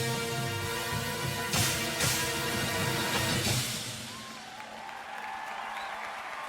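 Crowd cheering and applauding for a drum corps show, a broad roar with clapping that swells around the middle and then fades out under lingering music.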